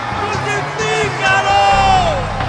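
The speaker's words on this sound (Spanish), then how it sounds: "Pero ellos gritaron aún más fuerte." An angry crowd shouts together in a dramatized scene of a mob before Pilate demanding a crucifixion, several loud overlapping voices rising and bellowing for a few seconds.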